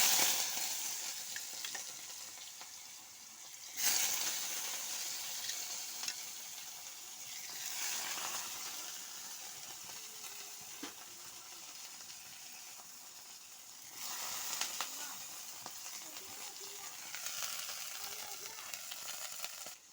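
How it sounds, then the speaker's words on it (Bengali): Potato, eggplant and neem leaves fry with mustard seeds, panch phoron and chili in a pan while a spatula turns them, producing a continuous crackling sizzle broken by several louder scraping stirs. "ভালো করে নেড়ে নিব।"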